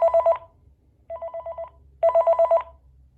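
A Panasonic KX-TG2583S 2.4GHz cordless phone rings in three warbling bursts, each a rapid trill of pulses. The middle burst is slightly lower and softer, over a faint low background rumble.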